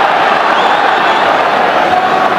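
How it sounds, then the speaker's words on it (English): A packed football stadium crowd roars after a goal brings the score to 4-2, a loud, sustained wall of cheering heard from within the stands without any pause or individual voice standing out. "the crowd are loving this."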